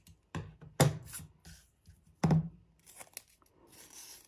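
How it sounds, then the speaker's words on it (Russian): Strips of adhesive tape are cut for a handmade gift box: close, quiet snips and tearing crackles, with two sharper cuts among softer rustles. "Я беру скотч"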